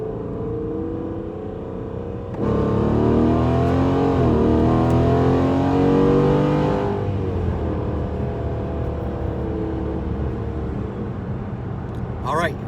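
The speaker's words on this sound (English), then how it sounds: "We're going to try a 40 roll starting from third gear." A car pulls hard from a 40 mph roll in third gear after a 3.70 limited slip differential install, the engine note rising loudly and steadily for several seconds before easing off into a lower drone.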